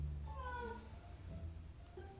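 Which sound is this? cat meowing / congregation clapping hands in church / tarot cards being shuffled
cat meowing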